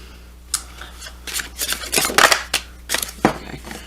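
Tarot cards being reshuffled in a deck give quick papery riffles and slides, a cluster of short brushing bursts close by, with no speech.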